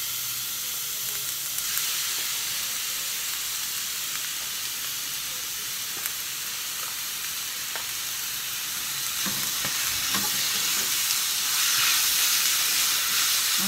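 Sliced pork frying in a pan while cooking Korean japchae, a steady broadband sizzle that holds throughout, with brief stirring clatter and the sizzle swelling a bit louder toward the end.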